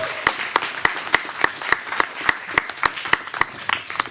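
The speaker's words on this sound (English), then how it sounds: "let's give him another round of applause" Sharp, evenly spaced claps ring out at a steady rhythm, roughly three per second, each crisp and close. It sounds more like one or a few people clapping in time than broad crowd applause.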